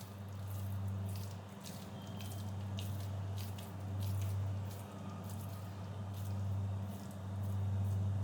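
Hands pressing and turning minced meat around boiled eggs for nargisi kofta, soft wet squishing and sticky slaps close by over a steady low hum.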